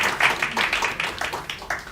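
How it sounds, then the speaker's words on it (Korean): Applause at a Korean awards ceremony for social development prizes, a small audience clapping in a steady, moderately loud patter of broadband claps lasting about two seconds. "예, 박수 부탁드립니다."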